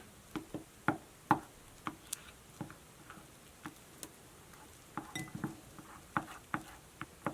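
Homemade cloud slime mixed with shaving cream being stirred in a bowl, with soft irregular ticks and sticky pats from the utensil, close and quiet, without talk.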